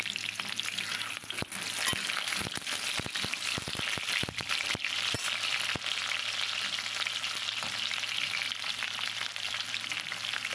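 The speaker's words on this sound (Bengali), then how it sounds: "আলুটা বেশ একটু লালচে লালচে করে ভেজে নিতে হবে" Potatoes frying in a pan give a steady, dense sizzle throughout, with a cluster of sharp spatula scrapes and taps early on before the frying continues alone.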